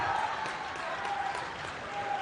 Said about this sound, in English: the crowd showing some life here